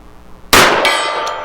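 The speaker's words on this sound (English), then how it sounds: "we'll start with the gong." A .45 ACP round from a ported 1911 strikes a steel gong target at 50 yards, producing a sudden loud metallic clang that rings on and decays slowly, with a second fainter ring partway through.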